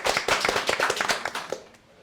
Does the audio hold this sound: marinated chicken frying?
no